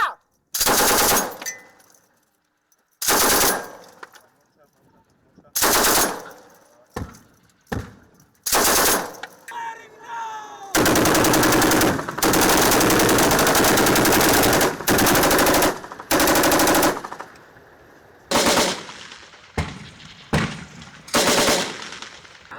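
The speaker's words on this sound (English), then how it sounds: "in order to avoid panic from the loud sound of heavy artillery" Heavy artillery guns firing at a live demonstration, a series of loud, booming blasts spaced several seconds apart, each rumbling away, with a stretch of sustained roaring noise midway and quieter gaps between shots.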